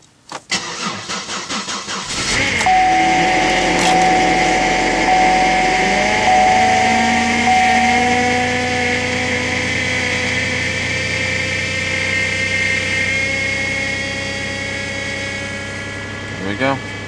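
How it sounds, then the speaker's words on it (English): A car engine cranks and fires on a dangerously cold winter day, then settles into a steady idle with a high whine running over it, close and loud. "Alright, let's go ahead and start her up."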